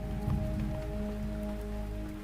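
Steady rain falls on a surface in a close, continuous wash, with a low hum running underneath throughout.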